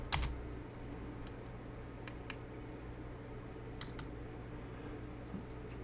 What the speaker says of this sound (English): Try typing in a number like 600